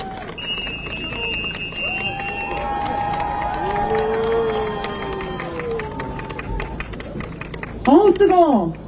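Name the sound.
crowd applauding and cheering at a campaign rally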